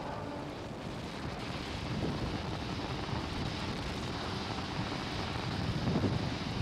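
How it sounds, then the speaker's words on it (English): Falcon 9 rocket's Merlin 1D engines during launch, powering down through the throttle bucket near maximum dynamic pressure: a steady, dense, broadband roar with wind-like rumble that holds constant and heavy throughout, with no talk. "we're heading into the throttle bucket as we power down the Merlin engines"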